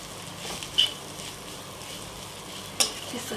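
Mashed potatoes for bread pakoda stuffing stirred into dry spices in a hot pan, with a quiet steady sizzle and two sharp scraping clinks of the spoon against the pan.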